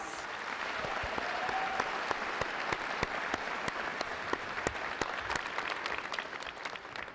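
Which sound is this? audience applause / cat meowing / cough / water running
audience applause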